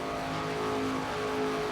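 A race car engine in the video game NASCAR 25, held near full throttle: a steady, loud, droning whine with a buzzing harmonic tone that barely wavers over a short stretch, no speech.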